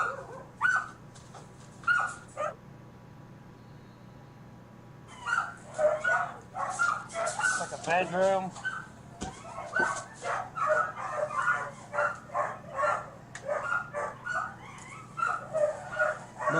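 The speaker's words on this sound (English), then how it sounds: "That's the guard dog." A starved, skinny guard dog kept without water barks and whimpers close by in a house, with yips and whines breaking through steady conversation.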